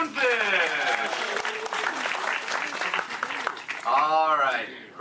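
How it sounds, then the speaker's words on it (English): Audience applause and cheering fill a Disney theme park show, loud and dense, with voices and shouts mixed in and a performer's amplified voice rising over the clapping near the end. "Round of applause for the Moonfish!"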